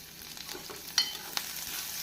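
Onions and tamarind sautéing in a pan over a medium flame give a steady soft sizzle, with a couple of sharp clinks and scrapes of stirring near the middle and end.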